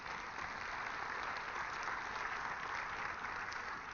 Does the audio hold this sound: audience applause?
yes